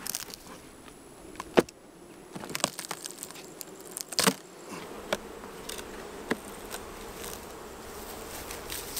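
Honey bees buzz steadily at an open beehive during winter preparation, a close, dense drone with scattered louder buzzes and a few sharp knocks or clicks from handling the hive boxes.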